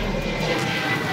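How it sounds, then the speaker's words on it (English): An F4 Phantom fighter jet at takeoff gives a loud, steady, broadband engine roar that fills the whole short stretch without a break. "they tape-recorded the F4 Phantom at takeoff"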